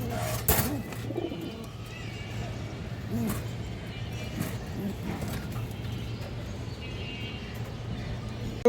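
Pigeons at a pigeon farm coo in a continuous overlapping murmur, with a low steady hum underneath and occasional thumps and rustles nearby.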